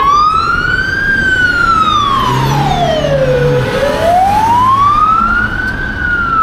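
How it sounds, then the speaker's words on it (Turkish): An ambulance siren wails loud and close in a long, slow up-and-down sweep, with the steady rumble of road traffic underneath as vehicles pull aside to make way. "Ha, ambulansa yol veriyorlar."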